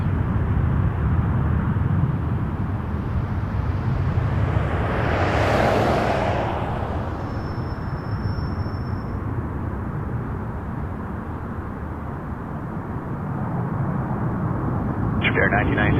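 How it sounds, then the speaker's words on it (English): An airliner's jet engines at Toronto Pearson Airport give a loud, continuous roar that swells and then eases slightly, with a faint high whine crossing partway through. "Oh, those engines sound so awesome."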